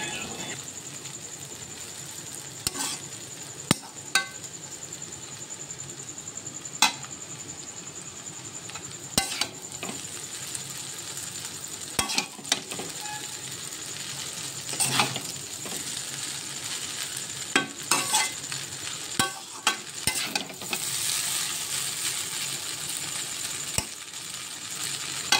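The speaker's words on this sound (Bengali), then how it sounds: "রাত্রে খাবারে বানাচ্ছে চাউমিন" Chowmein is stir-fried in a pan with a constant, even sizzle, broken by sharp, scattered clicks and scrapes of a utensil against the metal. The sounds are close, and no one speaks.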